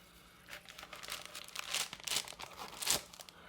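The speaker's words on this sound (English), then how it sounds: "Make sure it's relatively okay and just tape around." Adhesive tape is pulled and wrapped around a homemade cook pot cozy, giving close, crinkly rips and rustling bursts that swell and fade over a few seconds, with no talking.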